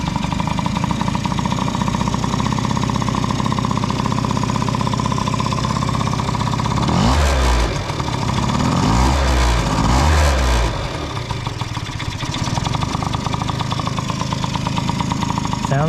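A kickstarted pit bike engine runs steadily at a loud, rough idle close by, with a few sharp revs near the middle before settling back to a constant rattling chug.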